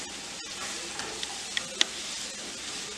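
Spiced carrot and potato curry stirred in a pan, a steady sizzling hiss with a few light clicks of a spoon against the pan.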